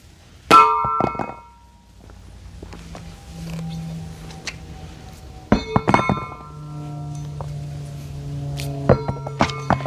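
An object dropped onto the corner of a Black Armor truck bed mat lands with a loud, close thunk, followed by several more sharp knocks and clinks.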